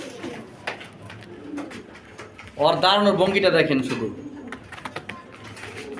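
Female pigeon of a famous bloodline cooing in a single rolling, throaty burst near the middle, close to the microphone, with someone talking before and after.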